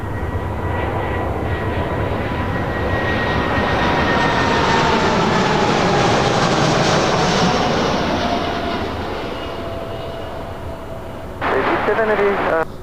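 A jet airliner rumbles loud and close as it lands on runway 24 right at LAX, its broad roar swelling to a peak and then easing off, with a brief burst of radio chatter near the end.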